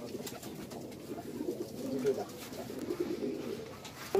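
Red-eyed pigeons of an old breed cooing in a loft in Khorkhori, Rajshahi, a steady murmur of several birds close by and continuous across the stretch.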